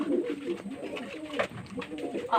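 Several pigeons in a rooftop loft keep up a steady, close, throaty cooing, their calls overlapping with no gaps and rising a little toward the end.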